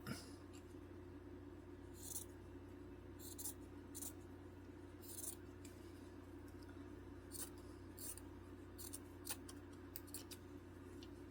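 Scissors cut a piece of quilting fabric for an appliqué cow, producing a series of short, crisp snips in irregular bursts, close and quiet against a steady background hum.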